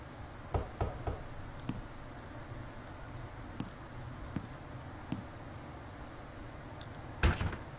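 Knocks on a door in the adventure video game The Longest Journey: scattered sharp raps, a pair near the start, single taps through the middle, then a louder double knock near the end, over faint hiss.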